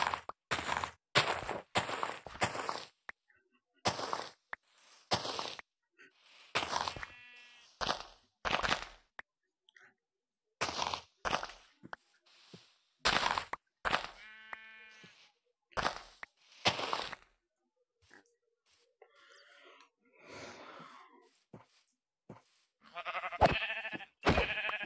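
Short, clipped sheep bleats from a Vivecraft video game repeat at irregular intervals, clear and close, with a few quieter scuffing sounds between them.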